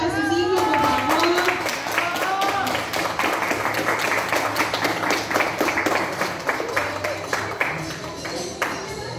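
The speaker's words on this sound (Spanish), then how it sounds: "Un aplauso para sus hijos, por favor." Parents clap for their children at a preschool graduation, steady broadband applause running throughout the clip, with voices and tonal sounds overlapping early on.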